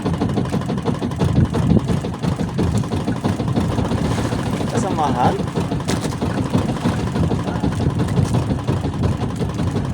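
A small fishing boat's engine runs steadily at idle, a constant low rumbling drone close by, with people talking briefly over it.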